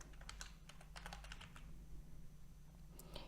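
A name is typed on a computer keyboard in a library setting, giving a steady run of quick, close key clicks over a low background hum, with no voices.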